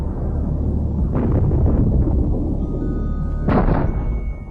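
Two loud, sharp bursts of rapid fire from an old machine gun firing 108 shots in under a second, a few seconds apart, ring out over a dense rumbling background.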